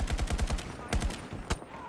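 Rapid automatic gunfire bursts in Battlefield 2042 combat, a fast rattling string of shots followed by a few louder isolated blasts, with voices talking over the firefight.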